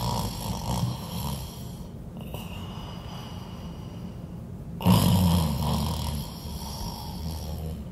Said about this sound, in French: il se recoucha, s'endormit et commença à ronfler bruyamment